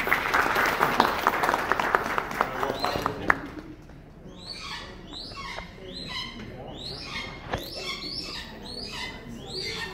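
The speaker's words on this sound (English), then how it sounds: "Let's give him a round of applause." An audience at an outdoor bird flight show applauds a small hawk for a few seconds before the clapping dies away, followed by repeated sharp, high calls that ring out alongside faint talk.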